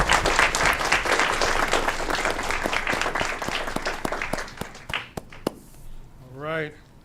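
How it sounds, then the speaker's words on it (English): An audience at a city council meeting breaks into sustained applause, dense clapping that thins to scattered claps and fades out after about five seconds, followed by a brief voice. "Let's give her a round of applause."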